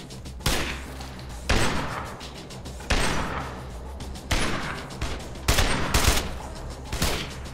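Gunfire from a weapon in the video game State of Decay: YOSE, Lifeline mode. Loud single shots ring out one after another about every second, each a sharp crack with a short tail, over a steady low game ambience.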